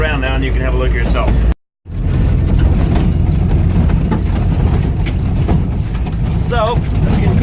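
A Land Rover rumbles and rattles steadily over a rough, bumpy road, loud and close, with a brief dropout partway through and voices talking faintly underneath.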